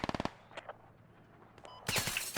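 Automatic gunfire from the military shooter game Squad, a sharp burst of rapid shots at the start, a few isolated cracks in the middle, then another loud sustained burst near the end.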